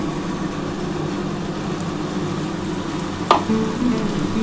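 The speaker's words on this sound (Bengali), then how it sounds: "এবার ভালো করে কষাতে হবে" A ground paste of ginger, cumin and green chilli fries in a pan with a steady, close sizzle throughout, broken by a brief sharp clatter near the end.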